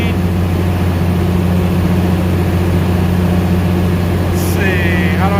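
A 480-volt industrial generator engine runs at steady speed during a load test, giving a loud, constant low drone and hum that stays unchanged from start to finish.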